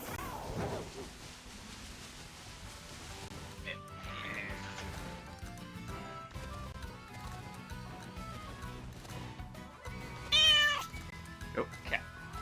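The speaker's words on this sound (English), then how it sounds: "Oh, cat." A cat meows once, loud and close, in a sharp rising call near the end, over a background of music and a person talking.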